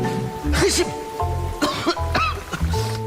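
Short, close coughs in a quick burst, followed by a speaking voice with further throat-clearing coughs between the words.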